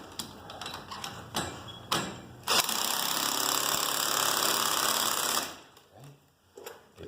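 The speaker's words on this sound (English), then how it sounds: "We take our impact with a 9/16 deep impact socket" An impact wrench with a 9/16 deep impact socket drives a bolt on a garage door spring repair, giving a few short taps and then a loud, steady hammering rattle that lasts about three seconds before stopping, with quieter clicks afterward.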